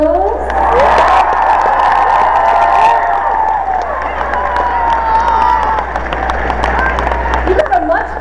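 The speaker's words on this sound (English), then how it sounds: "You got a much bigger applause than me." A large audience at Minecon, the Minecraft convention, breaks into loud applause and cheering that swells quickly, holds steady for several seconds, then tapers slightly, with scattered shouts mixed in.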